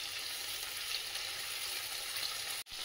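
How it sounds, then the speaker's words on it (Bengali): Tangra fish fry in a pan over medium heat, giving a steady, close hiss of sizzling oil that runs almost without a break and stops for a moment near the end. "মিডিয়াম আঁচে আমি ট্যাংরা মাছগুলোকে ভালোভাবে ভেজে নেব।"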